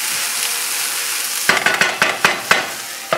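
Potatoes for corned beef hash fry in a covered pan with a steady close sizzle, then a utensil scrapes and clacks through them in several sharp strokes; no voices.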